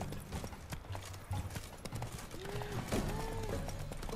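Horse hooves clip-clop in the video game Witcher 3, a steady rhythmic gallop heard close with a brief whinny, set over busy game sound and music.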